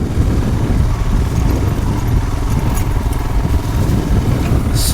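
A Royal Enfield Himalayan motorcycle throttles steadily across sand on a trail, its engine a loud, close, continuous rumbling drone with no breaks and no voices.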